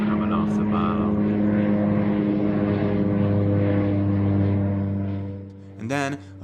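A low-flying propeller airplane roars loudly and steadily overhead as it passes over a house, its engine drone holding strong before easing away at the end, with a brief burst of talk near the close.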